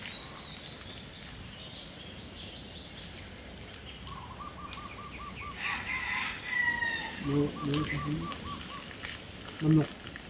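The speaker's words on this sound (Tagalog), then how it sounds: "Manok." Chicken in a mountain setting, giving short repeated clucks and calls at a moderate distance over steady outdoor background noise, with a louder squawk toward the end.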